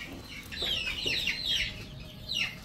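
Chickens in a coop give several short, high clucks and squawks at moderate distance over a low background hum, a few scattered calls across a couple of seconds.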